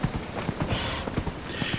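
Horse hooves clip-clop at a quick steady trot in the video game Dragon Age: Inquisition, a soft rhythmic patter under faint background ambience.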